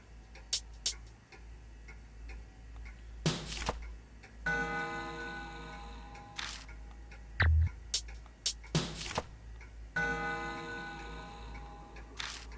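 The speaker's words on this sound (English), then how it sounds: "The clock makes a noise." Steady clock ticking inside the video game Spirit Hunter: NG, crisp regular ticks joined by bursts of mechanical whirring as the clock hands are spun, with an occasional sharp click.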